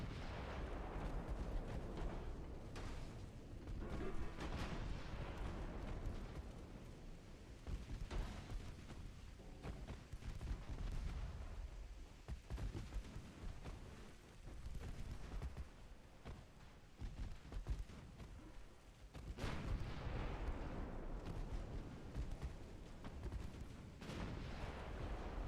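Naval guns fire high-explosive shells in the warship game Ultimate Admiral Dreadnoughts. Heavy booms and rumbling blasts follow one another almost without a break, forming a dense, moderately quiet barrage with no talking.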